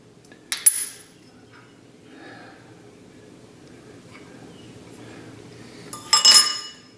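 Cut-off chunks of a steel plate clink and clatter against each other in two short bursts, one near the start and one near the end, with quiet handling noise between them.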